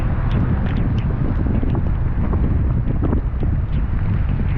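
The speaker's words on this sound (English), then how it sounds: "now I'm feeling the wind directly in my face" Strong wind from Tropical Storm Alex buffets the microphone on a Florida beach, a loud, continuous low roar of gusts without a break and no voices.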